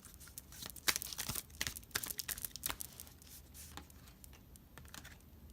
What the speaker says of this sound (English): so let's take this off and do a little shuffle shuffle.